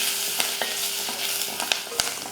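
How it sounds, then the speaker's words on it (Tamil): Curry leaves, mustard seeds and chillies sizzle and crackle in hot oil while being stirred for rasam, a steady close frying hiss with scattered pops and spatula scrapes, no voices. "கருவேப்பிலையெல்லாம் சேர்த்துட்டு வதக்கி விட்டுருவோம்"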